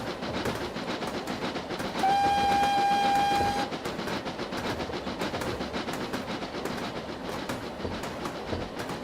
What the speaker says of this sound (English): They do pass trains here.